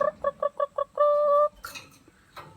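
A newly arrived Green Hatch chicken gives a quick run of five short clucks, then a longer sustained call, followed by some faint rustling nearby.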